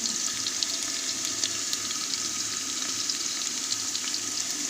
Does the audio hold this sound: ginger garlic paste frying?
yes